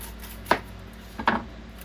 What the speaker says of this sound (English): And then we are going to cut that into strips the same size as the peppers.